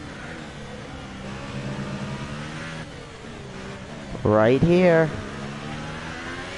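A Formula 1 car engine in the game F1 2018 drones steadily under a voice, then revs sharply upward in a loud, rising whine before settling back down.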